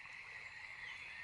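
Cartoon frog croaking, a steady, bright, buzzy trill sustained throughout and fairly faint, with no talking over it.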